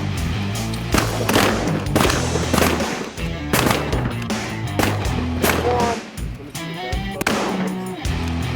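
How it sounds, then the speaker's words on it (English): Shotguns firing while hunting waterfowl such as widgeon over a pond in a wheat field, a rapid volley of loud close blasts in irregular bursts across the whole span, with brief shouting between shots. "Stop shooting out of close. Save your shells."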